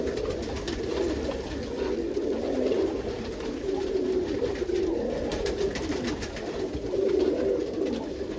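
Roller pigeons in their loft give soft, continuous low cooing from several birds at once, steady and close, with light rustling among the nesting hay.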